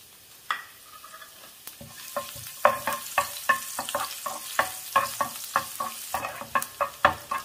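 Chopped garlic sizzles in hot coconut oil, with a steady soft frying hiss broken by a rapid series of sharp scraping stir strokes from the pan, close and clear with no voices.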